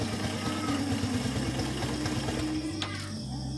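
A new motorcycle with a weak battery idles with a steady low, rapid chugging pulse, fairly close, before the rhythm changes and settles near the end.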